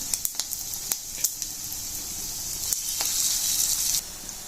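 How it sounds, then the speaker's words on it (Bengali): Kebabs made from fish roe frying in hot oil give a bright, steady sizzle with scattered pops and crackles, close by. The sizzle swells slightly toward the end, then drops away abruptly. "আমি সবগুলো কাবাব এভাবে দিয়ে দেব, দিয়ে ভাজবো।"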